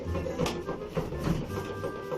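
A repaired washing machine runs with a steady mechanical whir and faint rhythmic clicking, close by and alone.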